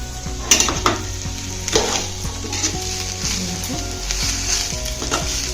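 Cabbage and capsicum stir-fried for noodles in a hot pan, with a steady loud sizzle and repeated scraping stirs of a spatula, close up and with no talking.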